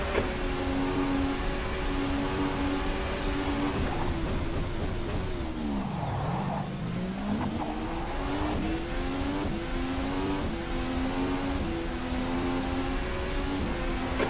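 A Formula 1 car in rFactor 2 lapping the Salzburgring, its high-pitched engine droning steadily, dropping sharply as it downshifts mid-run, then climbing back through rising revs.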